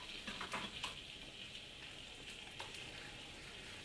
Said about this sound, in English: I'm only going to cook the cut side of the potatoes